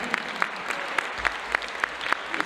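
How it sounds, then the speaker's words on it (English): Audience at a community festival concert in Brangwyn Hall, Swansea, applauding: a dense, steady patter of many hands at moderate distance, with a few sharper claps standing out at a fairly even beat, no talk over it. "Give yourselves a round of applause"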